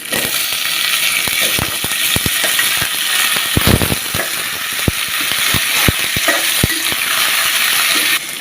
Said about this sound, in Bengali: এগুলো একটু লাল লাল করে ভাজে নিতে হবে।